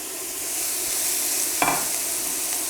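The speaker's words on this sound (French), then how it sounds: "On y met les oignons et le poivron. On va faire revenir tout ça pendant environ 4 à 5 minutes." Onions and bell pepper sauté in olive oil in a pan, giving a loud, steady, close sizzle throughout with one brief stirring scrape partway through.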